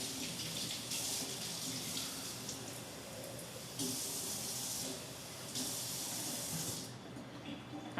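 Hot water runs steadily from a kitchen tap into a measuring cup, a close, continuous hissing splash with slight surges in loudness throughout.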